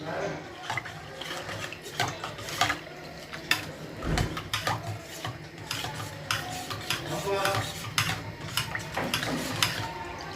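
A utensil stirs sesame rasam in a metal pot, producing a busy run of clinks, scrapes and taps against the vessel that continues irregularly for the whole stretch.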